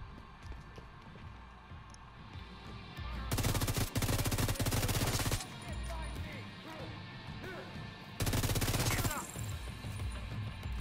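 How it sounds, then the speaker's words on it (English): Loud automatic gunfire from the player's weapon in The Division 2, indoors at Jefferson Plaza, in two sustained bursts separated by quieter game ambience, with talk in between. "I like it better when I'm inside shooting the gun. It sounds more aggressive."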